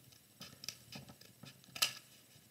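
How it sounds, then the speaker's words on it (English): Scissors snipping through folded paper while shaping a symmetrical paper snowflake, a few short quiet cuts spaced apart with one sharper crisp snip near the end. "And then I'm going to remove that with my scissors."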